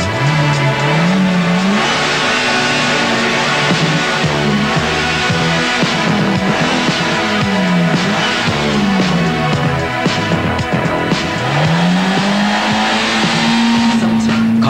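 A twin-cam Nissan Pulsar compact car from a Japanese commercial accelerates hard, its engine note climbing and dropping through repeated loud revving sweeps and gear changes, with tire squeal and backing music throughout.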